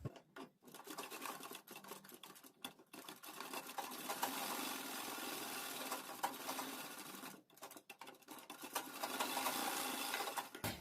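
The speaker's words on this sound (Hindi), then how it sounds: "ये दोनों पार्ट को ऐसे मिलाएंगे और निशान के ऊपर सिलाई लगाकर उसको यहाँ से बंद कर देंगे" A sewing machine stitches the side seams of a fabric dress, whirring and chattering steadily up close with a few brief pauses between runs.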